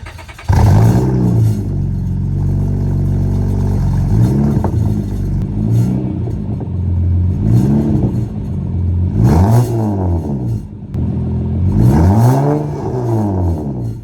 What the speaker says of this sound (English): Well, I actually have a V6, so chill out. And for just a V6, it sounds pretty nice.